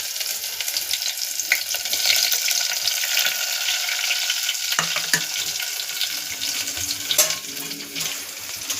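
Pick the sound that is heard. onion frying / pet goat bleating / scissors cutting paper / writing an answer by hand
onion frying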